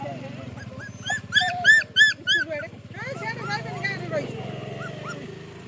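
A mother dog with seven newborn puppies gives a series of high, rhythmic yelping whimpers and short barks in quick succession, fairly close, while someone talks over and after them.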